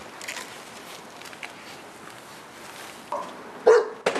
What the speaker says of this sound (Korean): 모두가 떠난 마을에서 들리는 개 짖는 소리